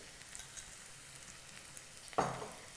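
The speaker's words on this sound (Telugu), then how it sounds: "ఈ అల్లం వెల్లుల్లి పేస్ట్ కూడా పచ్చివాసన పోయే వరకు వేయించాలి" Ginger garlic paste frying in a pan with curry leaves and onions for masala prawns: a faint, steady low sizzle that stays quiet, then a brief louder hiss and scrape near the end.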